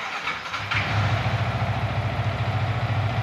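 A Yamaha R15 motorcycle with a misfiring problem cranks and catches, then settles into a steady, close, throbbing idle with a regular low pulse.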